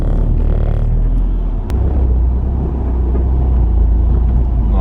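A VW Scirocco engine cranks and catches on its first start, settling into a steady, loud low rumble that idles continuously with no voices over it.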